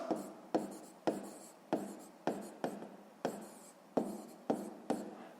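Pen writing by hand on paper during a sixth-grade maths exercise, a run of short rhythmic strokes about every half second, close and soft with no talk.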